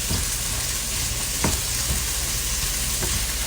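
Pork chops tossed and frying in a single pot, a dense continuous sizzle close by with a few soft scraping clanks as the pieces are moved around.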